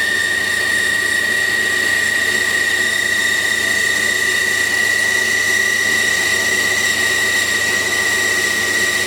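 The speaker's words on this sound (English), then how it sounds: "That's drilling nicely." A drill bores steadily through material in a shed, a continuous high-pitched whine with a constant tone and no break for several seconds.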